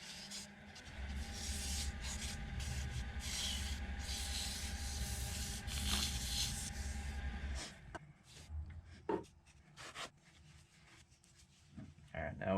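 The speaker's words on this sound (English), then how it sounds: "I'm going to sand it lightly with 400 again, just to get rid of the little nibs" Light, steady rubbing of 400-grit sandpaper across turned crepe myrtle wood, continuous for several seconds, then breaking into short intermittent strokes near the end.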